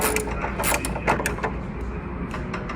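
A nut and bolt are snugged tight on a motorcycle fender bracket during a stretched CVO rear end kit install. Dense, close metallic clicking and rattling runs continuously with small bursts of sharper ticks.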